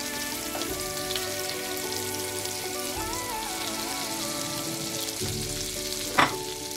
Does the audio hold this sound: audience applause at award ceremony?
no